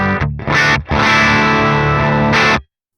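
Electric guitar through the clean amplifier of the Archetype Gojira X plugin, slightly gritty rather than pristine, playing a few loud strummed chords with short pick-scrape bursts between them, then stopping abruptly into silence.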